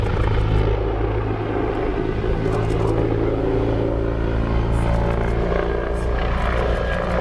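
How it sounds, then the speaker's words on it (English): A Turkish military helicopter passes overhead, its rotor and engine producing a steady loud drone with rhythmic chopping, continuous and fairly near with no voices. "So it's a Turkish helicopter."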